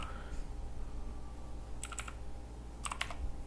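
Computer keyboard keys tapped in two short bursts of quick clicks while code is entered, close and fairly quiet over a low steady hum, no talking.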